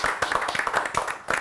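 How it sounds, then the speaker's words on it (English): A quiz show audience applauds a contestant with brisk, dense clapping from a small crowd, close and lively, fading briefly before a final burst. "Big round of applause for Soham."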